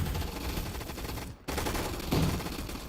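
Sustained machine gun fire from the video game Gun Fight Arena, a loud, dense rattling burst that cuts out briefly near the midpoint and then resumes just as steady.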